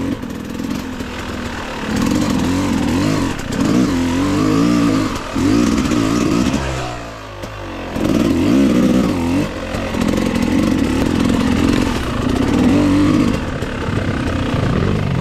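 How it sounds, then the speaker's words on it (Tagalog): A motorcycle on a rough mountain trail in Aurora revs in repeated surges, loud and close, with brief drops to idle between bursts of straining engine noise. "Ihatid nyo na lang doon sa may bahay yung motor."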